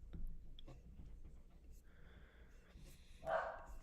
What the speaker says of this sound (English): These dogs up there are going nuts.